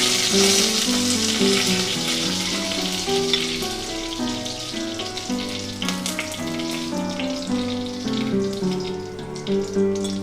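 Curry leaves dropped into hot oil for a Kerala tomato curry, a loud hissing crackle from the start that settles into a steady sizzle, with background music playing underneath.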